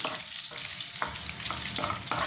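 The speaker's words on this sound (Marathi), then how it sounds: "मोहरीला फुटू द्यायचं" Mustard and cumin seeds, with bay leaf, crackle in hot oil for a tempering, a continuous frying hiss broken by sharp scattered pops, close up and without talk.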